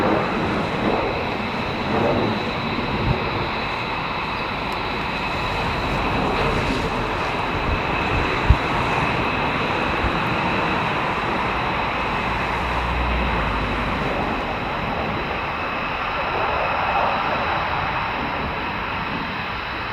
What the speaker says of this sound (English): Listen to the actuators from the engine nozzles.